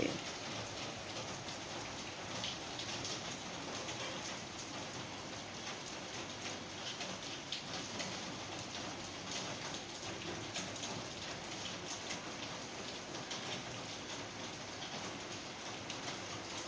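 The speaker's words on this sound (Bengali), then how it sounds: "এই দেখো বৃষ্টি পড়ছে।" Rain falls steadily, a soft, even hiss of drops striking surfaces that continues unbroken, faint and distant in tone with no voices.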